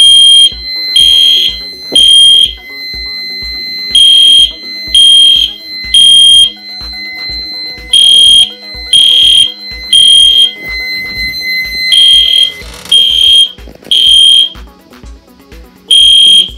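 Fire alarm horns on an FCI fire alarm system under test, blaring loudly and close in repeating bursts with short gaps, shrill and piercing, some pulses running longer, no voices.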